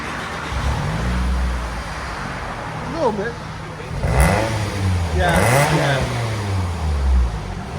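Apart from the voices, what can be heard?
2007 Toyota Highlander 2.4L with Borla Pro XS exhaust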